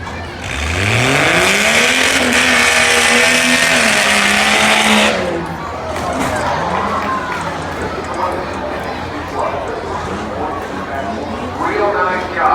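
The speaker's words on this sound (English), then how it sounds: "Fourth year racing this truck and held together." Rough truck racing at a county fair: a truck engine revs hard and climbs in pitch, then drops away as the truck moves on, under an announcer's continuous commentary.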